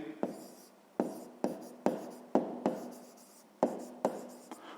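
A pen scratches across paper while working through a fifth-grade math exercise, a steady series of close, crisp strokes about every half second, each a sharp tap trailing into a short scrape.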